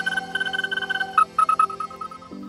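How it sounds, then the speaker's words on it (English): A toy metal detector reacts as a phone is held close, emitting rapid pulsing electronic tones that stutter and shift down in pitch, sounding up close and clear. "this is a real metal detector"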